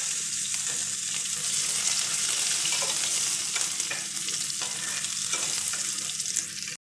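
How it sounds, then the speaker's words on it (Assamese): Pumpkin pieces sizzle steadily in hot oil in a karahi, a continuous close frying hiss broken by occasional stirring scrapes, with no voices. "আৰু ইয়াতে মই ৰঙালাও কেপিছোঁ অলপমান ফ্ৰাই কৰি ল'ম।"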